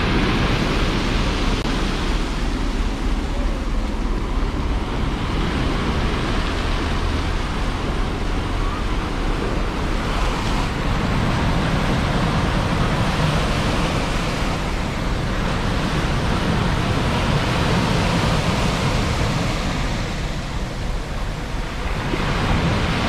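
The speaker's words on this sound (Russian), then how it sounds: "Красиво идет волна." Sea waves roll steadily onto the stony beach at Lazarevskoye, Sochi, making a continuous, fairly loud wash of surf with gentle surges and no break for the whole stretch.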